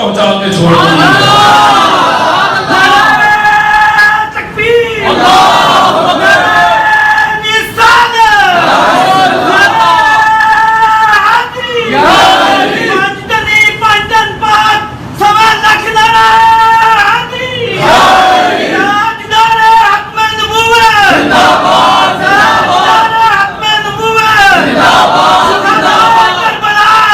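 A large crowd chants slogans in loud, rhythmic bursts throughout a religious gathering for a speech in remembrance of Hussain, with many voices rising and falling in repeated waves that fill the space.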